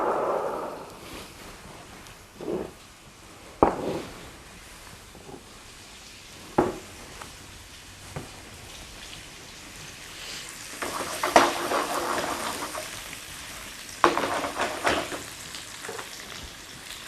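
Tofu frying in sesame oil hisses steadily in a pan, punctuated by clanks and scrapes from stirring, with the sizzle swelling louder near the end. No talking.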